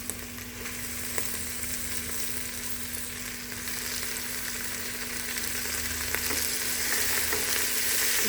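Fenugreek leaves sauté in a hot oil tempering with a constant crackling sizzle and occasional stirring scrapes, growing slightly louder toward the end; a faint steady hum runs underneath, and no one speaks.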